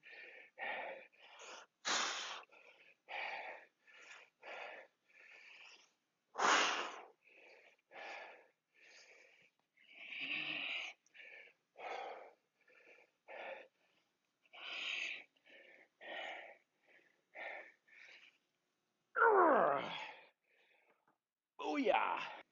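Heavy, rhythmic breathing during a calisthenics leg and quad workout: sharp gasping inhales and forceful exhales, close and repeated in short bursts with pauses between.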